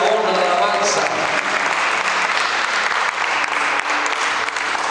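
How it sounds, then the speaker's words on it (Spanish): A church congregation claps loudly and continuously in worship, a dense wash of applause that holds steady for several seconds. "si vas a aplaudir, algo fuerte para el Rey de Reyes"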